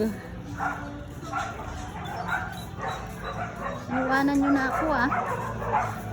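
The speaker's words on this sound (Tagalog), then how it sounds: "Daming aso." Several dogs whimper and yip close by while a person talks over them, the high whines growing louder toward the end.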